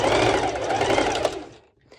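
A sewing machine running a long straight stitch along the crotch seam of a one-piece swimsuit, a steady fast whirring hum for about a second and a half before stopping.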